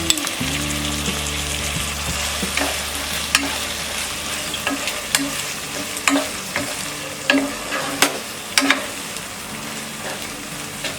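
Chopped tomatoes fry in a pan for millet khichdi with green peas and carrots, a steady close sizzle broken by repeated scraping stirs and a low hum underneath.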